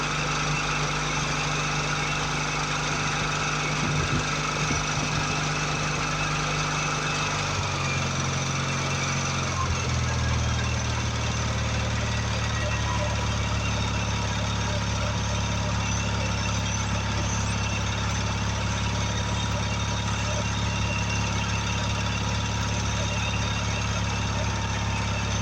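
A Kohler twin 17 engine with a faulty fuel pump idles steadily at close range, a continuous low rumble that shifts to a slightly different pitch partway through and then settles into an even drone, with no talk.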